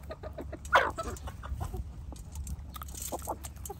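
Several Royal Palm turkeys cluck and chirp faintly at close range, with short scattered calls and one louder squawk amid soft farmyard background.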